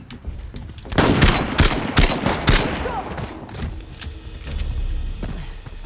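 Bursts of gunshots in an Uncharted: The Lost Legacy gunfight, several sharp, loud cracks in quick succession followed by a rumbling, echoing tail of more distant fire.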